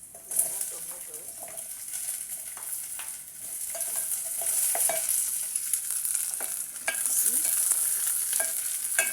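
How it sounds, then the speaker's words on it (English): Omena, small dried fish, frying in a pan with onion before tomatoes go in, giving a continuous bright sizzle with scattered stirring clicks and scrapes, while a voice briefly speaks. "I cook it a little bit before I add in tomatoes"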